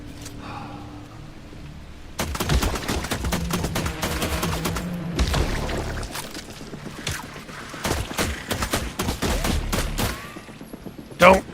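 Rapid bursts of gunfire from The Last Caretaker video game, volleys of shots clustered in dense runs with short pauses, loud and close, continuing for several seconds.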